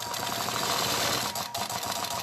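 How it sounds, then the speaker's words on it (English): A sewing machine stitches steadily along a ruler template, a dense, continuous close-up whir with a brief dip in speed partway through. "I'm going to stitch from this point to this point."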